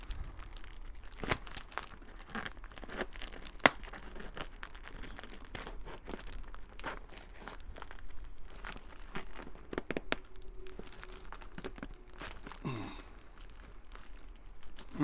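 Scissors cut through a plastic hose during setup of a Bambu Lab P1S 3D printer, giving a quiet run of soft snips, crinkles and scattered clicks at close range.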